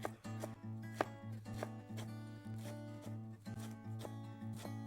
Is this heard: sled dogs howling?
no